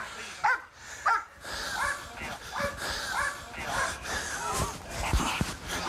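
A police dog yips, barks and whimpers in short bursts close by, mixed with people talking and scuffling during an arrest.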